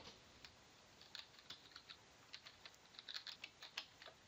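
Light, irregular clicks of someone typing a Stata command on a computer keyboard, quiet and near, with the taps bunching toward the end.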